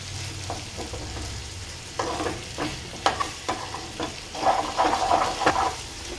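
A tempering of spices sizzles in hot oil in a pan for kadhi, a steady crackling fry with stirring scrapes and sharper pops that stays moderately loud throughout, with no voices.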